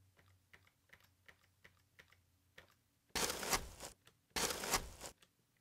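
A key is tapped repeatedly on a QWERTY computer keyboard in a Pro Tools editing session, a close run of light, evenly spaced clicks, interrupted by two loud bursts of broadband noise, with no speech.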